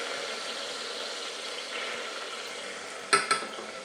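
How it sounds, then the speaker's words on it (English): Vinegar goes into a hot pan of softened garlic for a simple tomato sauce, giving a soft, steady sizzle close by, then two quick clinks of a utensil against the pan near the end. "I'm just going to add some of the vinegar to the pan"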